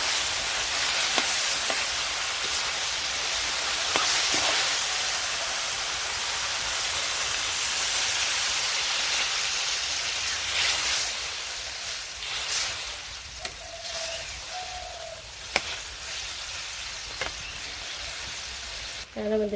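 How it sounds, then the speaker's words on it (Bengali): Green chillies frying in hot oil while cooking a vegetarian bottle gourd dish, with a steady loud sizzle throughout, occasional stirring scrapes and faint background sounds near the end. "ভালো করে কাঁচামরিচ এখন ভেজে দিয়ে"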